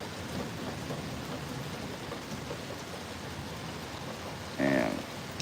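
Steady rain from a thunderstorm hisses continuously outdoors with a low rumbling background, and a brief voice cuts in near the end.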